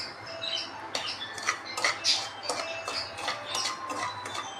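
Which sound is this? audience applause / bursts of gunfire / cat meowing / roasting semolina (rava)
roasting semolina (rava)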